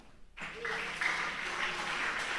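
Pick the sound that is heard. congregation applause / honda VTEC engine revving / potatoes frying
congregation applause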